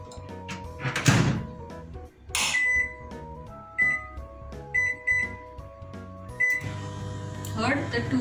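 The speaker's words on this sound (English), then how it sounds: "I'm covering it and I'm putting it into the microwave for 2 minutes" A microwave oven heating instant noodles in homemade tomato sauce at full power: door thunks, a run of short electronic beeps and a low running hum, with a voice talking nearby.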